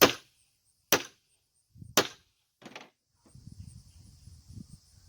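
A small hammer taps a gasket punch during a trimmer repair, with three sharp, separate metallic strikes about a second apart, then softer clatter and handling noise.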